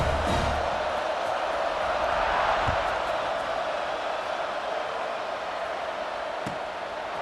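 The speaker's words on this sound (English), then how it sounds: "this crowd is buzzing after that last score" A stadium crowd at an Alabama at Florida football game keeps up a dense, continuous roar and buzz, loud and wide throughout, with a few faint thumps rising out of the din.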